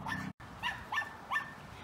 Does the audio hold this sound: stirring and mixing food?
no